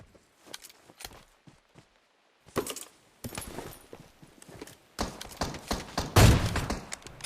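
An AWM sniper rifle firing in a video game: soft footstep-like taps and clatter build into bursts of gunfire, with the loudest sharp shot near the end.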